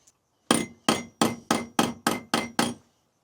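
A license plate bracket for a Ducati Monster 900 being bent with a hammer: eight sharp, ringing metallic blows in an even, quick rhythm, close and loud, then silence.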